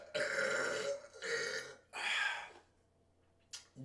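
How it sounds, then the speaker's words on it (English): A man lets out a long drawn-out burp, several loud guttural bursts in a row close to the microphone, then a short breath. "Enjoy that burp, okay?"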